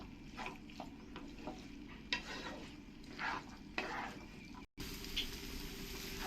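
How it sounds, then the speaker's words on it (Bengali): Ghugni, a spiced dried-pea curry, being stirred and fried with potato masala in a pan, with steady sizzling and repeated scraping stir strokes close by and no talking. "এরকম করে ভালো করে আমি ঘুগনি আর আলু মশলার সঙ্গে কষিয়ে নেব"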